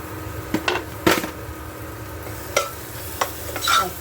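Onion masala with salt and sugar is stir-fried in a pan, spatula strokes scraping in irregular bursts over a faint sizzle, heard close up with no talking.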